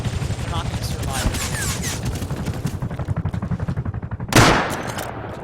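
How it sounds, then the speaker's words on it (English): An attack helicopter in the Rust video game unleashes a missile run, a rapid stream of loud explosive bursts and gunfire-like thuds rattling for several seconds, ending in a heavier boom. "Here we go for another missile run"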